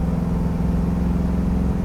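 A 1967 Ford Mustang Fastback's engine rumbles steadily while cruising, a deep, loud, even drone close by with no talking.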